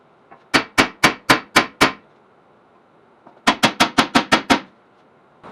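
A hammer strikes a corroded rear wheel hub on a 2010 Ford Taurus in two sharp runs of metallic blows, six then seven, loud and close with a short pause between.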